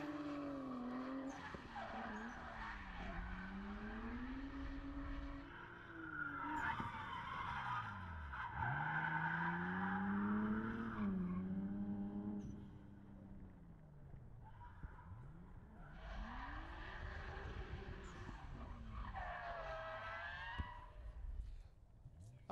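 Nissan S13 drift car with an RB25 engine spins out during a drift championship qualifying run, its tires squealing and skidding loudly with rising and falling engine revs throughout, while a commentator talks over it.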